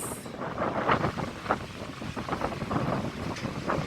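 Strong coastal wind on Jeju Island buffets the microphone in steady, rough gusts, a loud continuous roar with no voices.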